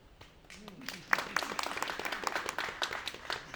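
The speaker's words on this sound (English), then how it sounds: "I'm so glad everybody's getting clapped for as we pass the microphone down." An audience claps and applauds during a blockchain networking event as a microphone is passed along, applause starting softly then swelling into steady, moderately loud clapping with a murmur of voices underneath.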